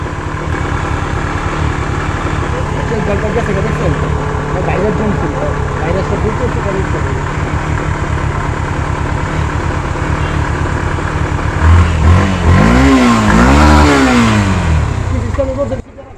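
A Yamaha FZ V3 motorcycle with an RPM pickup fault runs steadily at idle, then its engine is revved up and down in rising and falling sweeps near the end, close and loud, with someone talking over it.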